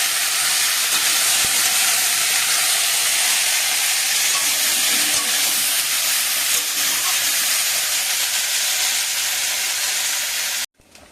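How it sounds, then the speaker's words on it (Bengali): A fish curry bubbling at a boil in a pot on a kitchen stove, giving a loud, steady hissing and simmering roar that runs unbroken and then cuts off abruptly at the end. "মাছের ঝোলটা ফুটে উঠেছে"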